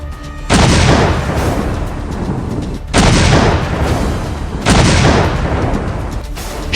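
Bombardment and artillery strike Stepanakert, capital of Nagorno-Karabakh: three heavy, loud booms land about two seconds apart. Each one hits hard and then rolls off into a long, rumbling decay.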